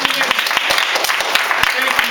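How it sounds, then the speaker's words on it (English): A club meeting audience applauding: a crowd claps with rapid, sharp hand strikes for about two seconds, loud and close, with a faint voice mixed underneath. "Give him a round of applause."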